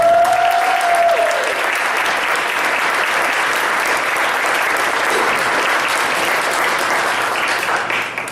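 Sustained applause from a large audience at a school district superintendent's forum as a longtime staff member is honored. Loud, steady clapping continues for about eight seconds and tapers off slightly at the end.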